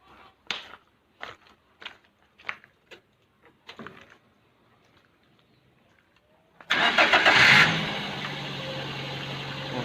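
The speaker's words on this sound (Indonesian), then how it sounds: "kita hidupkan mesin dulu" A 2016 Daihatsu Gran Max engine cranks over and fires up after a few faint knocks and handling noises, then settles into a loud, steady idle that runs to the end with no talk.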